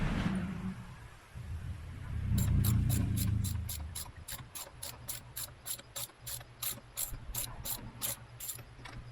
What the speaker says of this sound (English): And then we'll switch over to our torque wrench.